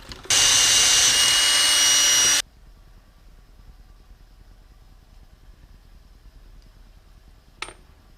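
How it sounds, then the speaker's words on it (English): A power drill bores out a hole in a part for a Tamiya Grand Hauler RC truck's heavy duty rear springs, a loud steady whine for about two seconds that stops abruptly, followed by quiet room tone and a faint click. "Need to drill that hole out just a little bit to fit my shop head."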